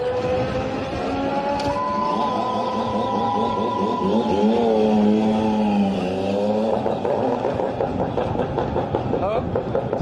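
A three-cylinder Yamaha racing motorcycle engine howls past at high revs on the Manx Grand Prix road course, its pitch sweeping up and down through gear changes, loud and continuous with a commentator talking over it.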